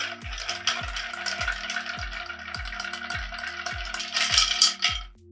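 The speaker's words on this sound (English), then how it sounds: "Let's give it a good stir." Ice clinks and rattles as a cocktail is stirred in a mixing glass, a steady series of light, regular knocks about twice a second, close and clear, with no talk.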